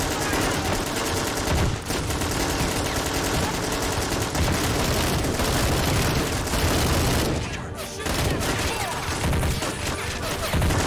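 Dense gunfire exchange in a battle simulation game: rapid machine-gun bursts and rifle shots overlap with booms and crashes almost continuously, loud and near, with a brief lull midway and voices talking over it.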